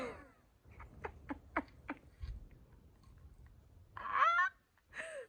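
A person's voice imitates goose honks, giving a short series of nasal, honking calls near the end after several quieter clicking mouth sounds, heard close and alone.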